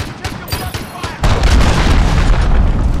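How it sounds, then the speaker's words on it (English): Cruise missile explosion in the game Call of Duty: Modern Warfare, a loud broadband boom that erupts about a second in and rumbles on heavily, over lighter gunfire and movement noise beforehand. "Enemy cruise missile."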